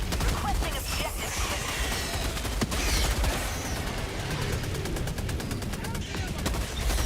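Stalwart machine gun in Helldivers 2 firing rapid sustained bursts, dense crackling automatic fire with chaotic battle noise around it, loud and continuous throughout.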